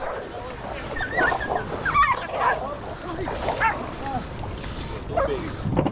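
Dogs fighting on an island during a fishing trip, with steady barking, yips and snarls close by over a background rumble of wind or water, and a person talking in between.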